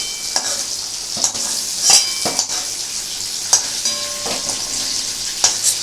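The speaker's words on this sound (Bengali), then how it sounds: "পটল আমার সুন্দর ভাজা হয়ে গেছে" Pointed gourd fries in a pan with a steady sizzle, punctuated by sharp clinks and scrapes from a utensil stirring and turning the pieces, close up.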